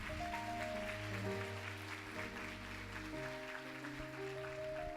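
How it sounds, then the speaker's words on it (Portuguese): A church congregation applauds in a steady, dense patter, mixed with sustained keyboard or organ chords that hold and shift beneath the clapping. "Aplauda ao Senhor."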